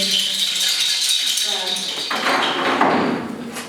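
Rattle of reindeer hooves shaken at an interactive museum exhibition of ancestral instruments, giving a steady dry clattering that swells near the end, with speech audible underneath.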